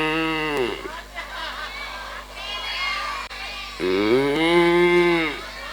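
A voice imitates a cow's moo during a lively religious sermon, giving two long drawn-out lowing calls separated by a short gap, loud and close, with crowd noise faintly beneath.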